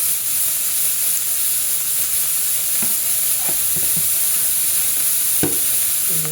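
Onions frying in a pan with salt and turmeric give a steady, loud hiss and sizzle throughout, with a few faint clicks of stirring near the end.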